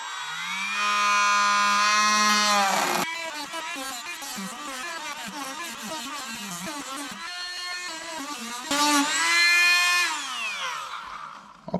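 A rotary tool fitted with a sanding disc cleans up a rock slider on a Polaris Ranger 1000 XP Northstar Edition, whining loudly at high speed with rising and falling pitch, then grinding in rough, uneven bursts before revving up again.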